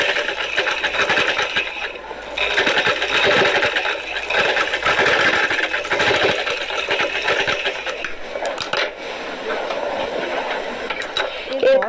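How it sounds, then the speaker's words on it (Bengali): A sewing machine stitches a shirt collar in fast rhythmic bursts of needle clatter, running steadily with short pauses, close and moderately loud. "রাখার পর এখন এই সাইডটা আমি সেলাই করে নিচ্ছি।"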